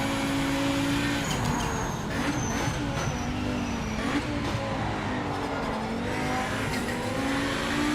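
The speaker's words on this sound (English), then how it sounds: "This car sounds pretty good." Race car engine in the game Project Motor Racing, a loud steady drone with rising and falling revs and some tire squeal, continuous through the whole stretch with no voices.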